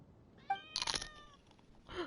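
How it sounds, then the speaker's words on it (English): A cat meows in a short, clear cry, followed by a louder, breathier second call and a faint third mew, all close and with no talking. "I heard a kitty"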